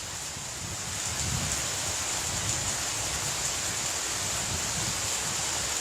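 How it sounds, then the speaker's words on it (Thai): Steady rain falls outdoors, a dense, even hiss of drops on surfaces that holds unbroken at moderate level, with a faint low rumble beneath. "กลับมาพบกันเช่นเคยกับบรรยากาศฝนตก"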